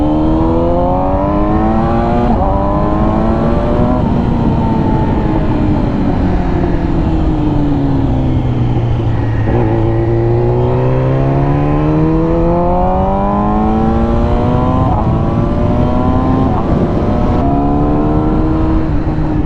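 Yamaha R6 sport motorcycle ridden through town, a loud close engine drone that rises and falls as the rider accelerates and slows between gears, continuous for the whole stretch with no talk.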